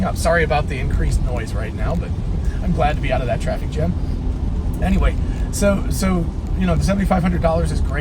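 Tesla on the road after leaving a traffic jam, a steady broadband rumble of tyre and road noise inside the cabin underneath someone talking throughout.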